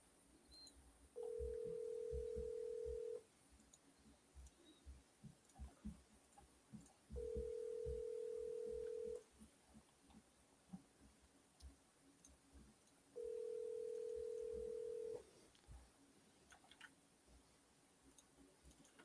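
A telephone ringback tone sounds three times in long, evenly spaced pulses during an outgoing cold call to a realtor, with faint room noise and light clicks between rings.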